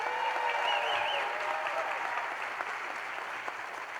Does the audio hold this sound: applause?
yes